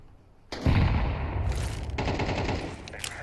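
Counter-Strike match at IEM Cologne 2025, a sudden close burst of rapid rifle fire followed by continued shooting and game clatter, fairly loud with no talk over it.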